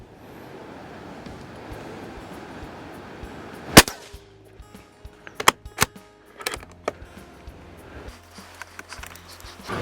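A rifle fitted with a Discovery HT 4-16x44 SFIR FFP scope fires at small targets outdoors. One loud, sharp report is followed by scattered lighter knocks and clicks, with no talking.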